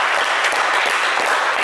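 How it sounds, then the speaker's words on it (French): A studio audience on a French TV game show applauds loudly and steadily, a dense wash of clapping filling the short stretch without a break. "Alain, qu'on va applaudir bien fort."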